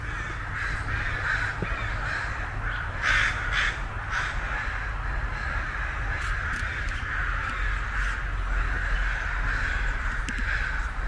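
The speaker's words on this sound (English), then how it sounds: "The crows are singing." Crows caw repeatedly in a nature park at morning, harsh calls in irregular bursts over a constant low outdoor rumble, with no talking.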